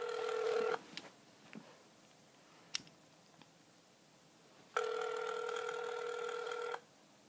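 A telephone ringback tone plays over a phone speaker: two long repeating rings a few seconds apart, clear and close, with faint clicks and handling noise in the quiet gap between them.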